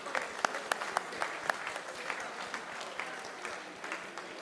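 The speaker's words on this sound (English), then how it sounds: "Yes, applause." An audience at the International Physics Olympiad closing ceremony in France applauds as teams come on stage, a soft, distant patter of many hands with a few sharper individual claps standing out.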